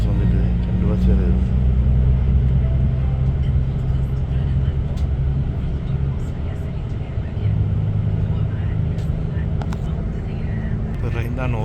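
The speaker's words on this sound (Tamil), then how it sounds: "நார்த் பஸ் வந்துட்டு 2 பஸ் வருது." Buses pulling in on the Arna to Bergen route give a low, steady engine rumble that dips and rises, while someone talks throughout.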